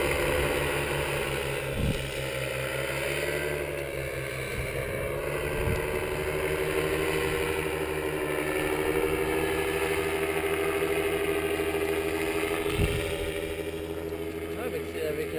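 A paramotor engine drones steadily and loudly through flight and throttles up with a sustained buzzing whine, while a voice speaks over the engine noise.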